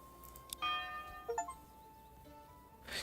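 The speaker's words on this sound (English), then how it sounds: "Changed the church bell sound" In the Manor Lords video game, a church bell rings with bright chiming tones, a couple of struck notes that ring and decay, fairly quiet against a soft ambient background.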